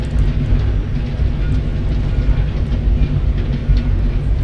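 An open train rolls along in the horror video game Husk, producing a loud, continuous low rumble and rattle with faint clicking over it and no speech.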